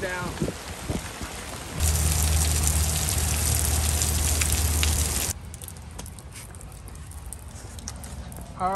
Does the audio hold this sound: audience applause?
no